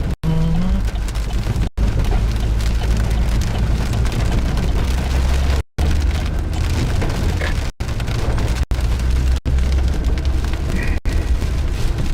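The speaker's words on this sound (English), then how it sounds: "I think we're definitely just hitting rain right now." Heavy rain pounds a moving vehicle during a Midwest severe-weather storm chase, a loud, steady wash of noise over low road rumble, broken by a few brief dropouts, with no talking.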